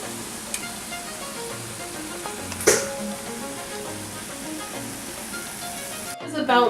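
Corn and potatoes boiling in a pot of water for a surf and turf, a steady bubbling hiss and roil that runs continuously at moderate loudness, with a brief clatter near the middle and a clunk at the end.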